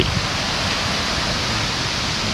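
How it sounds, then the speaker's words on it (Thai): The small Phrom Wihan waterfall near Khun Han gives a loud, constant rushing roar of falling water, close and unbroken, with no voices. "นี่ฮะถึงแล้ว เป็นน้ำตกสีบัวใหญ่นะครับเป็นน้ำตกขนาดน้อยนะครับ"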